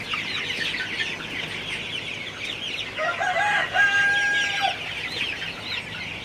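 Chickens cluck steadily in a farmyard on a cool, breezy morning, then a rooster crows loudly nearby midway through, over constant background chatter of the flock.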